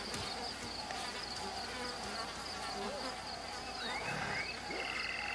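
A bee buzzes in the video game Ancestors: The Humankind Odyssey, a close, steady drone set within a jungle ambience of chirping insects and croaking frogs.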